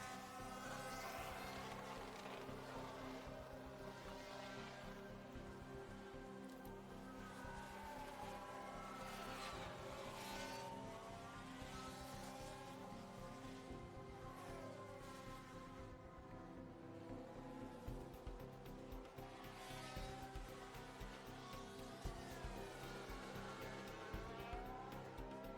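Simulated V10 Formula 1 engines from the F1 Manager 2023 racing game, a steady loud buzzing roar with rising and falling pitch sweeps as cars accelerate and pass, continuous throughout with no talk.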